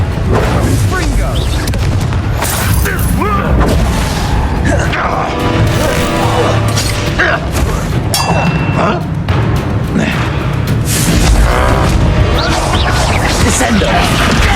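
Confringo blasting spells explode repeatedly in Hogwarts Legacy, a dense barrage of booming blasts, thuds and crashes over constant battle noise, with shouted spell voices mixed in.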